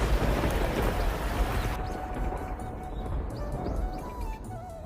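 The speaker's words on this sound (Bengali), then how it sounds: "এক বর্ষার রাতে বজ্রপাত আর বৃষ্টির শব্দে তাদের ঘরে জন্ম নিল একটি" Cartoon-style rain and thunder on a rainy night: a loud rumbling rush of downpour in the first half gives way to steadier falling rain with scattered drops.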